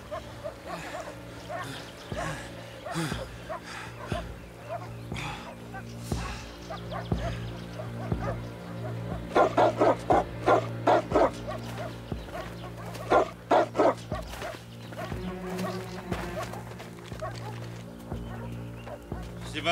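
Search dogs bark on the trail of fugitives in a wartime drama, sharp bursts clustered near the middle over a steady rumble, with voices around them.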